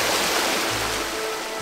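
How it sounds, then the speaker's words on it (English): Water gushes steadily from a tap into a bathtub, a loud, continuous rushing splash close by with no talking. "start filling it with water."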